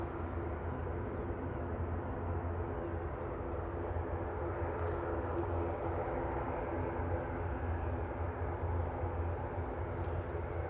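A Norse-operated Boeing 787-9 Dreamliner on approach to land at Manchester Airport, a steady distant jet roar rumbling low and constant throughout with no voices.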